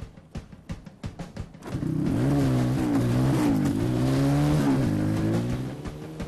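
A mobility scooter fitted with a motorbike engine races past: a few sharp mechanical clatters first, then a loud sustained engine roar whose pitch rises and wavers through gear changes before fading slightly at the end.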